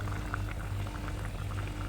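Fish curry bubbles in a pot at a steady, close boil, with continuous popping and gurgling and a low hum underneath.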